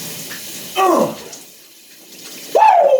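A shower runs cold from a broken water heater, a steady hiss of spray throughout, broken by two loud gasping yelps from a man standing under the water.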